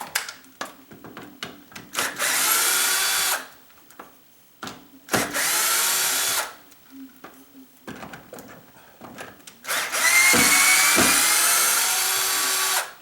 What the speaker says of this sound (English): if you go to the store and get a battery operated drill, get the 18 volt and also get the lithium type batteries too